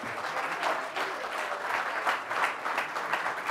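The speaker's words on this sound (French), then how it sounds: "Je veux qu'on les applaudisse, s'il vous plaît, encore une fois, car ils ont fait un grand travail." A crowd at a French political gathering applauds the activists, a full, rolling burst of clapping that swells and holds steady from a large audience heard at some distance.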